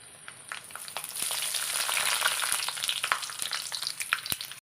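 Cinnamon, star anise, cardamom and fennel sizzle steadily in hot coconut, a close, continuous frying hiss with small pops and stirring clicks.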